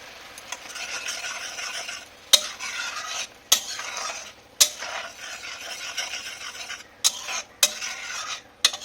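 Egg rezala gravy seasoned with sugar, Kashmiri chilli powder and pepper bubbles gently in a pan while a spoon scrapes and stirs it in repeated close strokes, with sharp clinks between.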